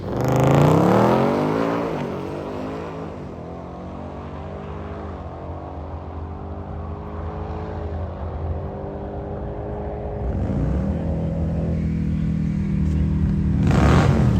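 A supercharged automatic 2024 Ford Mustang GT Roush Launch Edition roars hard at a drag strip, its engine note climbing through gears in loud sweeping pulls with shifts between, sustained near and powerful for the whole run.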